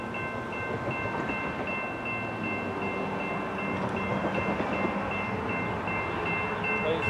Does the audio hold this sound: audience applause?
no